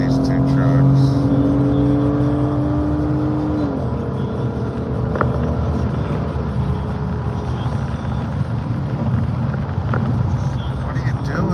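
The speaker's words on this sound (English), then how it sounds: "Let me pass these 2 trucks." A car overtaking two trucks on a highway: a steady, loud road and engine roar throughout, with a rising engine tone early on and wind buffeting, heard from inside the vehicle.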